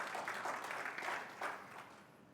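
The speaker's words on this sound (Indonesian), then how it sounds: "Tepuk tangan bagi Tuhan Yesus." A church congregation claps together during a service, a steady mid-level wash of applause that carries on without a break, with some distance to it.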